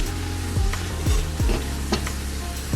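Tuna casserole sizzling in a frying pan as it is stirred, steady frying hiss throughout with several scraping spoon strokes across the pan, close and alone with no talking.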